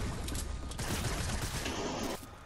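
Gunfire in the video game Fortnite, a dense, rapid burst of shots that keeps up without letting up for a couple of seconds, loud and close, then cuts off abruptly.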